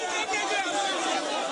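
Dense crowd chatter outside a hotel in Côte d'Ivoire, many overlapping voices forming a steady, loud murmur with no single speaker standing out.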